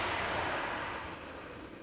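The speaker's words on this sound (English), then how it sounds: "Got another airplane taking off to the north, left of me." Airliner taking off to the north at Amsterdam Schiphol Airport, a steady broad jet roar that holds loud and gradually eases, with no talk over it.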